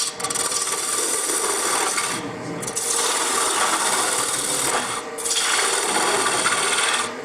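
A ball gouge cuts wood on a lathe, making a steady loud scraping rasp that runs continuously, briefly easing twice as the tool lifts off the spinning workpiece of a hot-air-balloon ornament.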